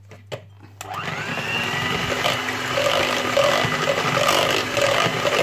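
Hand mixer whipping egg whites with cream of tartar for chiffon cake, a steady whirring motor hum that starts after a couple of knocks and runs continuously, close and loud, with no talk.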